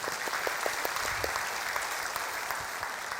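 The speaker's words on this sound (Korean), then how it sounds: "우리 박수로 하나님 앞에 영광을 돌려드립니다." A Sunday worship congregation in a church applauds steadily, a dense wash of clapping at moderate loudness with no speech over it.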